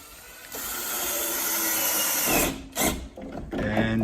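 A power drill drives screws into a wooden TV cabinet, giving a steady whirring run that stops with a couple of short bursts, close and loud with no talking.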